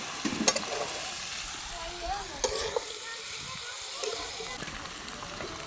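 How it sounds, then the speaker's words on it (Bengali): Chicken and raw jackfruit frying in oil with spices, stirred in a pan: a soft, steady sizzle with occasional scraping stirs, close and fairly quiet, with a little background speech. "এবার আমি আরেকটু কষা করে নেব, চিকেনটা দিয়ে ভালো করে মিশিয়ে নেব, তেল মশলাটা ভালো করে মিশে যাবে।"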